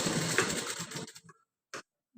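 A sewing machine stitches a boat neck blouse with a fast, steady whir for about a second, then stops, followed by a couple of short isolated bursts.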